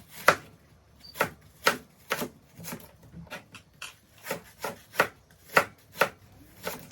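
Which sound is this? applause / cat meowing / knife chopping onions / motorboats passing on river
knife chopping onions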